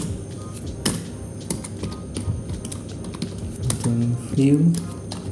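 Rapid clicks of a computer keyboard as code is typed, irregular bursts of close keystrokes with a voice speaking briefly near the end.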